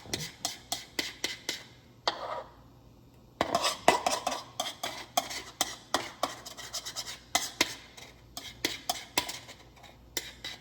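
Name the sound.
scraping body butter out of a container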